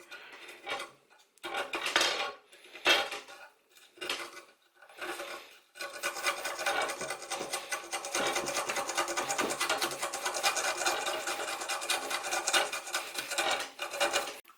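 Sanding or scraping old glue off a fishing rod blank after removing the reel seat, first in several separate rasping strokes, then as continuous close rubbing, alone without talk.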